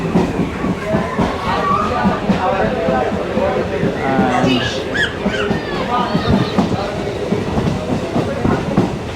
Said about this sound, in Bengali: সো আমি এখন আছি ইন্ডিয়ার ট্রেনে, যাচ্ছি কলকাতা